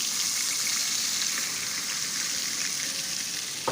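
Semolina sizzles steadily as it is roasted in melted butter for walnut semolina halva, a continuous close, even frying hiss with no talking.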